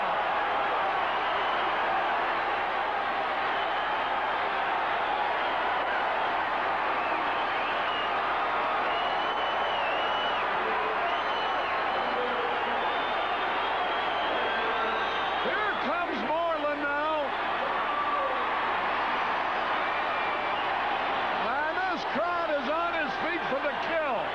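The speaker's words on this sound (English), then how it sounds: "Listen to the crowd." Crowd noise at a Cardinals at Cubs baseball game with the bases loaded, a sustained roar of the stadium throughout, with a broadcaster's voice heard briefly over it.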